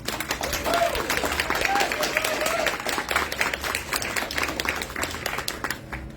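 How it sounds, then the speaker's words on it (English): An audience at a film screening event for Palestine in Denver applauds, with sustained, moderately loud clapping that tapers off toward the end. "Let's give them a round of applause."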